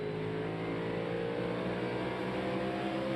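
A NASCAR race car's engine, heard through in-car audio at the Food City 500, drones steadily as the driver works the throttle, a loud, sustained engine tone.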